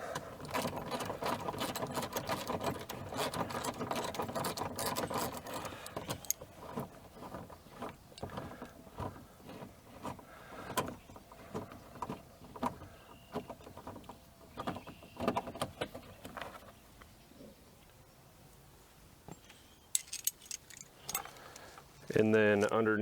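A hand ratchet works a 7mm bolt out of a 1999-2007 Chevrolet Silverado 2500HD door panel, making quick repeated clicking bursts with pauses between them, close by, with someone talking over parts of it.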